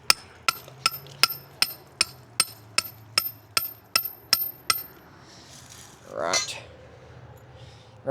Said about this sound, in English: let me go ahead and hammer it